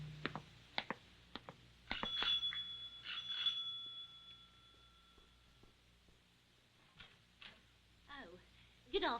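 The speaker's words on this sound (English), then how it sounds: "when the front doorbell rang" A bright ringing front doorbell sounds twice in quick succession, its tone sustaining a few seconds, with scattered footsteps and voices nearby.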